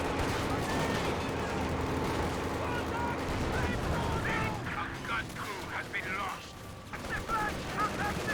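Gunfire during a Company of Heroes match comes as sustained rattling bursts and mechanical clatter at steady volume, thinning toward the end, with a commentator talking throughout.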